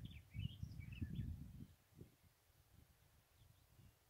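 Birds singing in open countryside, a few thin high chirps and short warbled phrases heard faintly at a distance over low rustling background noise, with no voices.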